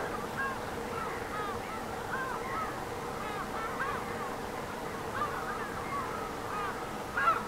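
A flock of birds in a park keeps up a dense chorus of honking calls, moderately distant and continuous over steady background noise.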